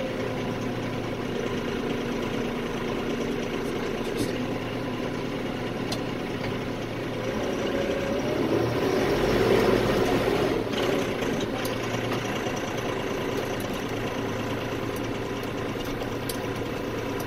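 A Mahindra 6075 tractor engine idles with a steady low rumble, heard from inside the quieter cab, swelling slightly midway before settling back to an even drone.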